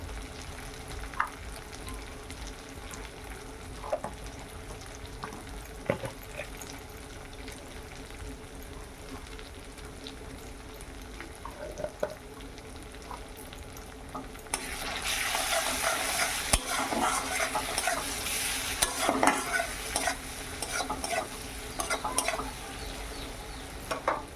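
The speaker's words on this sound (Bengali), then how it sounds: "আদা রসুনটা ভাজা হয়ে গেছে" Ginger-garlic paste and ground spices frying in oil, with a low, steady background for the first stretch that turns into a loud, dense sizzle partway through and keeps crackling to the end, punctuated by occasional stirring knocks.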